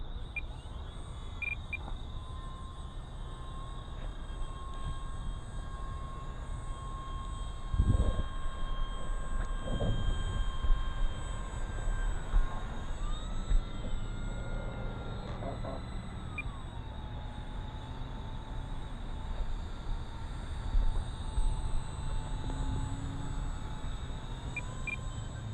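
An E-Flite Maule M-7 RC airplane drones overhead in slow flight with flaps down, a faint, steady electric motor hum whose pitch shifts gently as it passes, with insects chirping in the background and a couple of soft thumps nearby.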